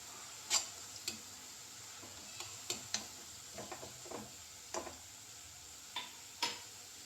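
Drumstick leaves and chopped onion stirred in a pan for murungai keerai poriyal: a spatula scrapes and taps in irregular clicks against a faint sizzle, with no talking.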